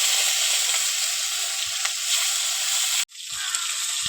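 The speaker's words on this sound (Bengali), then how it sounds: "এবার মাছগুলো ভেজে নেব" Pieces of katla fish fry in hot oil in a pan, giving a steady, loud sizzle with crackling pops. A sudden brief drop in the hiss is followed by the frying surging back.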